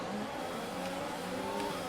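Formula 1 cars at the race start in F1 2020, engines held high in the revs with a dense, loud mechanical roar and rising whine from the grid.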